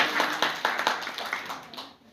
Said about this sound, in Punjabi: ਤਾੜੀਆਂ ਲਾਈਆਂ ਜਾਣ ਵਾਲੀਆਂ।